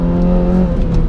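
A Suzuki Swift Sport engine with a back box delete exhaust holds high in the rev range, a loud, steady, raspy drone with a strong low growl and a slight waver in pitch.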